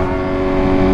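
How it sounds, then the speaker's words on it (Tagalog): Steady engine drone from a motorcycle riding through busy city road traffic in the Philippines, with the bike's own motor and surrounding vehicles blending into a continuous, loud, even hum throughout. "ang dami sasakyan dito"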